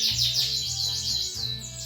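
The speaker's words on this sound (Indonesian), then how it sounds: "Itu saya contohkan burung saya, ternakan saya sendiri teman-teman, anaknya si Flori." A young home-bred lovebird, offspring of Flori and born in August 2019, chirps in rapid, high, continuous twitters close by over a low steady hum.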